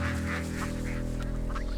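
Ducks honking and quacking in a loose cluster, several nasal calls rising over a constant low hum of background noise, with no voices heard.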